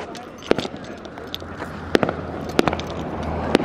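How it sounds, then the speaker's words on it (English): Fireworks go off in the distance outdoors, a scatter of sharp pops and crackles spaced a second or so apart over a steady background hiss. "Who's doing the fireworks?"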